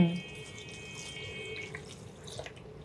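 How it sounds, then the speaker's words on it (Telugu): Milk being poured into a coconut flower milkshake makes a brief soft liquid stream and splash, faint and close, that tapers off after about two seconds. "ఇప్పుడు ఇందులో మనం పాలు యాడ్ చేసుకుందాము"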